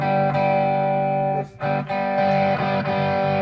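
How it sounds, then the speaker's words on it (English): A heavily distorted electric guitar sustains thick, buzzing chords, loud and close, with brief breaks as the chords change. "I'm such a sucker for that distortion sound"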